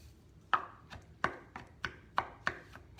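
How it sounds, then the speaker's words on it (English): Knife chopping food on a cutting board while making fish tacos, five or six crisp, close chops falling at a steady, unhurried rhythm with no talking. "I'm just chopping up."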